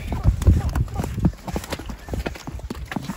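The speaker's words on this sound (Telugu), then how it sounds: "నా గుర్రం అలిసిపోయింది." Horse hooves clip-clop on a muddy tourist trail in a quick, uneven rhythm, close and fairly loud, while people talk over the steps.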